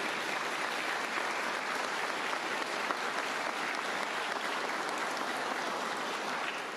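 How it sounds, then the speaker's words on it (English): Crowd applause at a public safety event in Alabama, a steady, even wash of clapping from many hands lasting throughout, fairly distant and without voices. "Let us give all a round of applause to these people today for what they've done for our state already."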